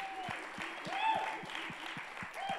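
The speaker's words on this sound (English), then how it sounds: "So come on, everybody, everywhere, put your hands together." A church congregation claps together in a steady, quick beat, about three to four claps per second, alongside singing or a raised voice.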